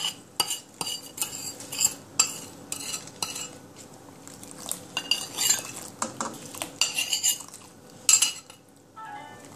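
A metal spoon stirs rice and peas ingredients in a pot, giving repeated scraping clinks against the sides in irregular strokes, close and fairly quiet, with no talking.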